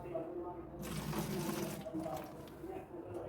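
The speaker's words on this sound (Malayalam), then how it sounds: "ഈ ഡീസലിനകത്ത് നമുക്ക് കുറച്ച് വെള്ളം ചേർത്ത് കൊടുക്കാം" Water splashes and gurgles continuously as it is poured into a bottle of diesel, close by and fairly quiet.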